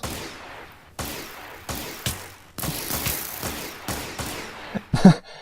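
Modded blaster gun in Minecraft with a Star Wars Galaxies mod fires several sharp shots at irregular intervals, each a crisp burst with a short tail, ending in a louder cluster of shots.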